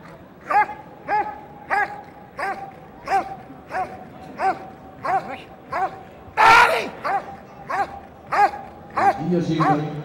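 A KNPV police dog barks during bitework, giving about a dozen sharp, evenly spaced barks, loud and close, with a brief noisy burst midway and someone speaking near the end.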